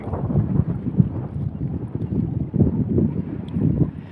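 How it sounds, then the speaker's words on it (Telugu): Strong wind gusting over a river during fishing from a boat, a low continuous rumbling buffet against the microphone with uneven surges. "ఒకటే గాలి చూడు ఫ్రెండ్స్. గాలి ఒకటే తెలుస్తుంది ఫ్రెండ్స్."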